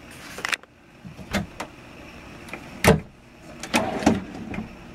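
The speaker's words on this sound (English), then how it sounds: "The drawers are on ball bearing guides," Dresser drawers in a 2008 Montana 332 PHT fifth-wheel camper slide on ball bearing guides, giving several short, close rolling swishes and soft knocks as they open and shut.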